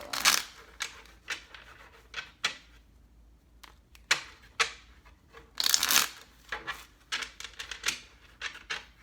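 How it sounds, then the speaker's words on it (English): Tarot cards being shuffled by hand in a reading, crisp riffling bursts and flicks in an irregular rhythm, close and fairly loud, with no talking. "All right, last shuffle, guys."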